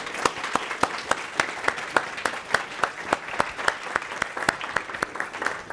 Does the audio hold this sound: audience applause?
yes